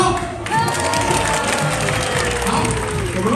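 An audience claps and cheers at a church Christmas raffle, a dense burst of applause that swells quickly and carries on loudly to the end amid crowd noise.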